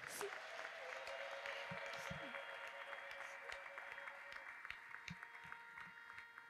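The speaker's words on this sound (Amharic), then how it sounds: "አጨብጭቡ ከዚህ በላይ።" A church congregation applauds at a prophet's worship service in steady, fairly faint clapping that carries on for the whole stretch, with a few low thumps and some background voices mixed in.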